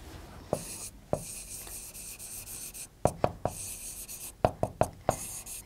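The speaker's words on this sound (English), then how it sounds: "if I just write down the solution" Pen or chalk writing out a physics solution on a board: soft scratchy scraping strokes broken by sharp tapping clicks, including a quick cluster of taps near the end, close and quiet with no talking.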